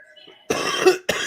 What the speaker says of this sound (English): One of those soldiers coughed